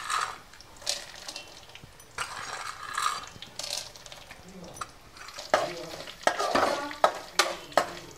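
Peanuts and dried red chillies fry in hot oil in a pan for lemon rice, with a soft steady sizzle broken by scraping and clinking stirs that turn louder and sharper in the second half; no one speaks.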